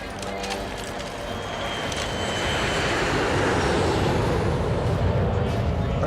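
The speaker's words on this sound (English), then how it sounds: "Plane is touching down, sir." A plane touches down in a horror film: a broad jet roar that swells steadily louder and closer, then holds at a heavy, sustained level.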